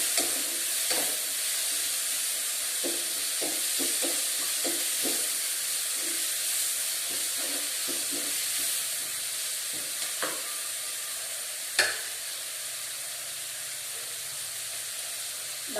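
Two chopped tomatoes sizzle and fry steadily in a pan for a poori curry, with a constant hiss and scattered soft stirring scrapes and clicks throughout, no voices.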